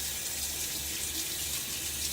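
Steady running tap water pours continuously while soap is rinsed off a safety razor at a bathroom sink, a close, even hiss with no voices.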